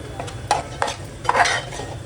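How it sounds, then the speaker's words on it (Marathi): Soaked moong dal is stirred into a pan of frying onions, a spoon scraping and clinking against the metal in several distinct strokes over a soft, steady sizzle, close and moderately loud. "आता आपण मुगाची डाळ ह्याच्यामध्ये भिजवलेली होती 1 वाटी पूर्ण, ते आता मी ह्याच्यात सोडते"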